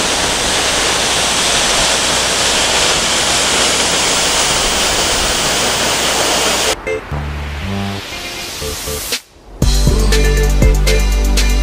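A powerful, steady roar of a 55-metre waterfall in New Zealand dominates, broad and close, before shifting abruptly to quieter, different background sounds near the end.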